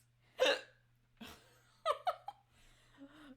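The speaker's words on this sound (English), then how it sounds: "I'll go deal with my hiccups" A person hiccups several times, each a short sharp gulp spaced irregularly over a few seconds, quiet and close with no talking.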